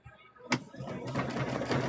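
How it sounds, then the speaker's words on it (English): A sewing machine runs steadily across a line on fabric scraps for a mug rug, a continuous close whir starting after a brief pause, with a voice speaking over it. "So we're just going to sew across that line."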